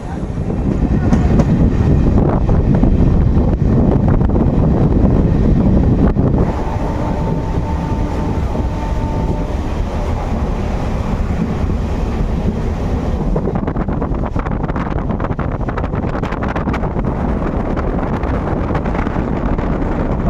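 A MEMU local train runs between Bankura and Bighna after leaving the station, a loud continuous rumble and rattle of carriages on the rail with heavy wind buffeting, heard close from on board.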